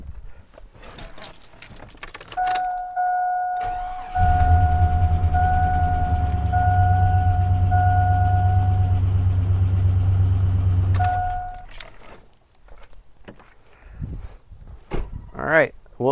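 A truck engine that had been sitting cranks via a GOOLOO GP2000 jump starter and catches, then idles steadily with a low rumble for several seconds before shutting off, with a beeping tone and some handling noise.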